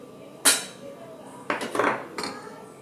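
A spoon stirs ghee rice in a pot, making a sharp metallic clank, then a cluster of scraping and knocking strokes against the vessel, close and fairly loud over a quiet background.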